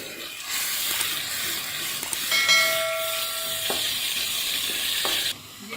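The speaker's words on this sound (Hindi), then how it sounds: "ये सबसे पहले हम प्याज डाल लेंगे। इसको हम थोड़ा सा फ्राई कर लेंगे प्याज को" Onions fry in oil in a handi for an achari chicken dish, giving a steady moderate sizzle with a few light stirring clinks and a brief metallic ring, with no talking.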